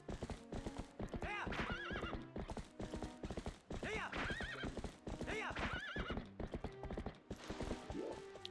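A horse whinnies several times over a steady clip-clop of hooves in the video game Zelda: Twilight Princess, with a game-like mechanical backdrop; the neighs rise and fall repeatedly.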